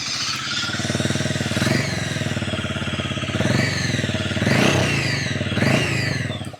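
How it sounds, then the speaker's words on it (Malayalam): A Harley-Davidson X440T motorcycle revs up close, its exhaust note rising and falling in several throaty blips over a steady running engine, loud and alone without talk. "എക്സോസ്റ്റ് നോട്ട് നമുക്ക് ഭയങ്കര ഇൻട്രസ്റ്റിംഗ് ആയിട്ടുള്ള ഒരു ഫീല് ജനറേറ്റ് ചെയ്യുന്നുണ്ട്. ഞാൻ അതൊന്ന് കേൾപ്പിക്കാം."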